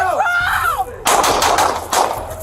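Gunfire erupts in a police shootout: a short wailing, siren-like tone gives way to a string of loud, sharp, closely spaced shots with a second burst near the end.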